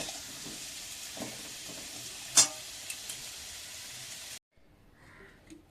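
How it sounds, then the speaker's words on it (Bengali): Potatoes frying in oil, fried until reddish-brown, give a steady broad sizzle with a sharp clatter of a utensil midway; the hiss stops abruptly near the end, leaving quiet room sound. "আলুটা লাল লাল করে ভেজে নিয়েছি"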